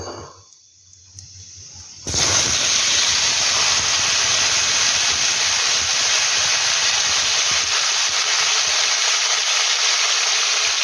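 Potato pieces hit hot oil with a browned bay leaf while frying for aloo dum. After a quiet start, a loud, sustained sizzling hiss bursts up and continues steadily, close by.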